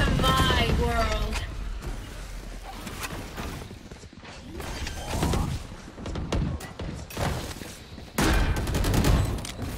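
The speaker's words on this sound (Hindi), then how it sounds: "ओह नाइस शॉट, एक अच्छा किल यहाँ पे आता हुआ डीगल से।" Pistol shots from a Deagle in the tactical shooter Valorant during a tournament match, sharp gunfire cracks scattered across a busy mix with other game sounds and background voices.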